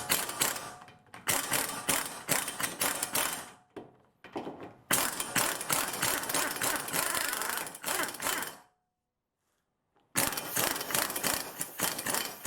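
A hand ratchet turns an 18mm socket on the front brake of a 2007 Mercedes C-Class W204 Kompressor, giving loud, close, rapid clicking in three long bursts separated by brief pauses.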